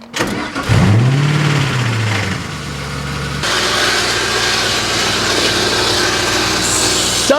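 A Porsche 986 Boxster with a swapped-in V8 cranks and catches, then idles roughly while a starter motor stuck engaged adds a harsh, continuous grinding whine. The sound is loud and close, with no voices.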